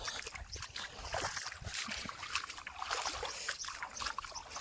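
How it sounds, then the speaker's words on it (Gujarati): Soft, continuous trickle of irrigation water running through a tomato field, with faint splashing and gurgling, quiet and steady throughout. "અહીંયા પાણી ચાલુ છે હમણાં"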